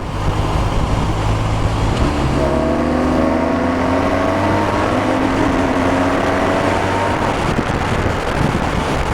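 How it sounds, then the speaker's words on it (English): A 2016 BMW R1200 RT motorcycle with a fly-by-wire throttle revs up under a steady rush of wind noise, its engine tone rising smoothly through the middle of the ride before easing off. "when you give the throttle a bit of a twist"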